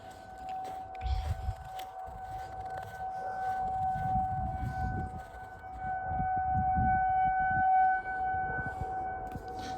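A distant tornado siren being tested in Lucas County, Ohio, holds a steady, sustained tone across the whole stretch, rising and falling slightly against low outdoor rumble and wind.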